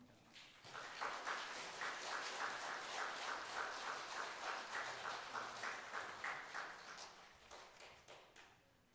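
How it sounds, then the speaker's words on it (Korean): A church congregation gives sustained applause at a Sunday service award moment, many hands clapping steadily for several seconds before tapering off, heard from a distance in a large room. "큰 박수 해주시기 바랍니다."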